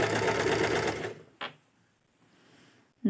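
A sewing machine runs fast stitching fabric piping made from waste material, a loud rapid whirr for about a second, then a brief burst and another short start at the end.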